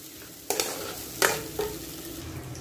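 Mashed potato is mixed with spice mix in a pan: three sharp scraping strokes of a utensil against the pan, close and distinct, over a low, steady background hiss.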